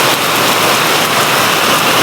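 Heavy monsoon rain pours down over flooded farm fields, a loud, steady broadband hiss of rain that fills the whole scene without a break.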